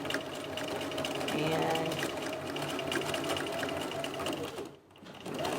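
Sewing machine stitching fabric and easing extra material into the seam, a close, steady rapid mechanical whir and clatter running continuously before a short stop and restart near the end, with occasional quiet speech.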